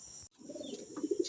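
Racing pigeons back down in their loft coo in soft, low, throaty murmurs that swell toward the end, with a steady high hiss in the background.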